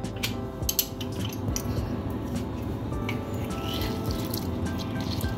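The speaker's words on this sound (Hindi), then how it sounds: "इसे मैं स्क्वीज़र की मदद से इसका रस निकाल रही हूँ।" Lemon halves pressed in a hand squeezer, with wet squishing and dripping juice running close and steady for a few seconds, no talk over it.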